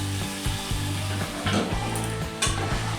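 Gobindobhog rice frying with spices in a pan for a pointed gourd muroghonto, a constant close sizzle under rhythmic scraping of a utensil across the pan, several strokes in a row without talk.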